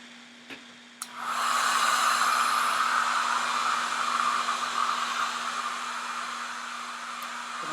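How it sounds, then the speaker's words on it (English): A hair dryer on its cool setting clicks on after a couple of faint taps and runs with a steady, airy whir and hum, close by and continuous. "it's just a cool setting on a hair dryer"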